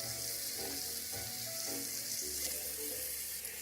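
Onions frying in a pot for a vegan miso soup, a steady sizzle with soft clinks and stirring movements throughout.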